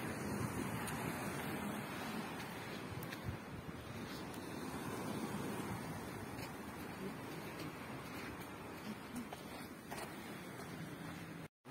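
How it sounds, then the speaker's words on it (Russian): Sea surf rushes continuously against the shore, a broad steady roar with wind buffeting the microphone throughout. "Послушаем шум прибоя."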